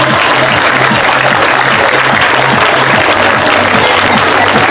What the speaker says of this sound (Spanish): vamos a regalar un aplauso a los señores de la alcaldía.